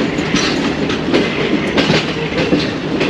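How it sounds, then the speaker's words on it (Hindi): Train wheels clattering steadily over track switches as the train slowly pulls out of the Lahore Junction railway yard in Pakistan, a continuous rumbling clickety-clack with regular rhythmic beats. "ये जो धीमी धीमी ट्रैक चेंजिंग की आवाज़ें हैं"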